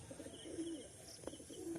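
Kalanka pigeon kept by a fancier giving soft, low coos, two drawn-out calls separated by a short gap, faint and close against quiet room background.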